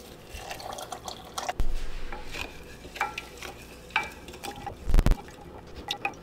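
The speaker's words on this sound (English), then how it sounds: "You can see in there just after about 1 minute of stirring, all of the flakes have dissolved." A spoon stirs magnesium flakes into just-boiled water in a container, giving soft repeated clinks and swishes with a couple of sharper knocks, close and moderately quiet.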